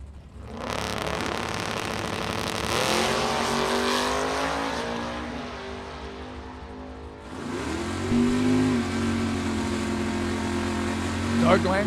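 A 1971 Chevelle with a 406 small-block Chevy drag races a 1981 Z28, loud engines revving and roaring down the strip with shifts in pitch, under continuous announcer-style talk.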